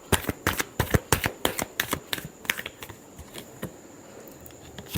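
Tarot cards are shuffled by hand in a quick series of sharp riffling flicks, dense at first and thinning out toward the end, close and crisp with no voices.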